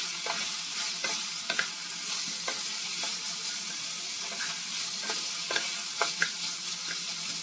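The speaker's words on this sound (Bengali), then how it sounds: "আবার বেশ ভালো করে ভেজে নিচ্ছি" Chopped onions fry steadily in a pan for homemade chowmein, a continuous close sizzle broken by occasional sharp clicks of a spatula stirring against the metal.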